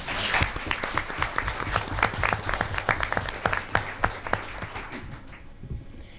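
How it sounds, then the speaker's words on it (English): An audience at a school board meeting applauds the school staff, with brisk, fairly close clapping that tapers off near the end. "If we could give them another round of applause."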